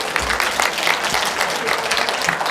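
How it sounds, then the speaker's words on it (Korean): Steady audience applause filling a lecture room as an occupational safety lecturer is welcomed, dense clapping from many hands throughout, fairly loud and with no voices over it. "한기훈 박사님을 박수로 맞이해 주시기 바랍니다."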